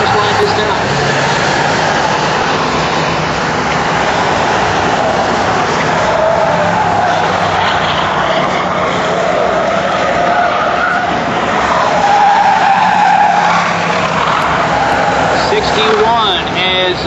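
Race cars run laps on a circuit during a 2003 race, engines droning continuously with tire noise, heard under a steady stream of commentary.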